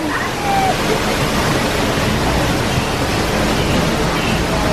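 Waterfall on the Disneyland Jungle Cruise ride, a steady, loud broadband rush of falling water that continues unbroken throughout, with faint voices in the background.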